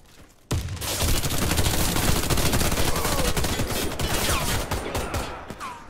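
Sustained, dense gunfire in the shooter game Warface, a Team Deathmatch round on the Hangar map, bursting in abruptly after a quiet half-second and rattling on loudly with rapid overlapping shots throughout.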